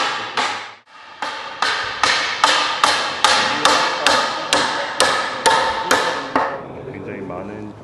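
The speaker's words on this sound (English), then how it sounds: "they're learning how to use the nails and the hammer" A carpenter hammers nails by hand into a timber house frame, about a dozen loud, close, evenly spaced strikes in steady rhythm, each ringing briefly before the next, then the blows stop.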